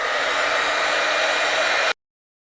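A hair dryer blows steadily and close on wet acrylic paint, a loud even whoosh that cuts off abruptly.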